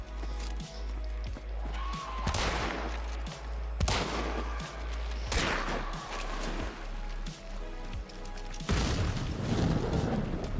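Repeated sharp gunshot bursts and booms from the game Hunt: Showdown, spaced irregularly over several seconds, fairly loud with no talking.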